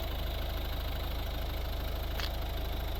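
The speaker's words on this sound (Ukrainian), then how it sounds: "автомобіль заведений, працює, щоб було зрозуміло звук двигуна" A 2012 Volvo V50 1.6 D2 diesel engine idles steadily with a low, even rumble and faint knocking rhythm, continuous and unchanging, with one brief click partway through.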